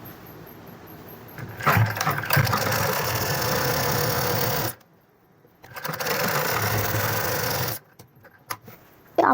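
A sewing machine stitching lining fabric for a sharara, whirring steadily in two sustained runs separated by brief silences, close and fairly loud.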